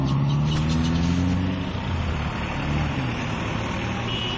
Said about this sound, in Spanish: Son los buses que están entrando para el Carmen.